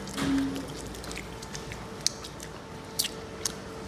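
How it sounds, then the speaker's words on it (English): Someone chewing fried chicken from a Singapore fried chicken shop, with soft squishy mastication and a few sharp crunchy clicks near the end, heard close over faint room noise. "Chewing."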